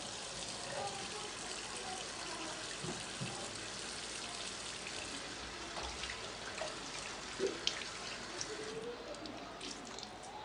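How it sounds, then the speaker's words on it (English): Tap water runs steadily into a sink as hands are washed during a medication preparation, a faint continuous splash with small clatters and a person speaking softly. "I'll be washing my hands."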